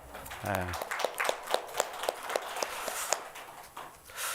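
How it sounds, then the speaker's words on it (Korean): A church congregation at a Sunday service gives encouraging applause, a steady run of distinct, moderately spaced claps at a medium distance, following a brief spoken voice at the start. "격려의 박수 한번 하겠습니다"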